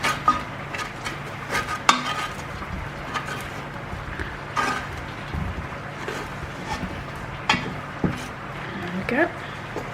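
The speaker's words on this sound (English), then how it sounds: "I'm just going to give them a quick turn and then put them back in the oven just to finish roasting" Roasting potatoes are turned on an oven tray, with scattered metallic clinks and scrapes spread over several seconds, close but fairly soft, under a steady low kitchen background.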